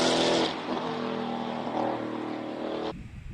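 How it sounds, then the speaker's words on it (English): BMW V10 race car launching off the start line at a hillclimb sprint, engine screaming loud and close as it revs hard, then cutting away abruptly near the end. "Glorious sound of a BMW V10 launching off the start line"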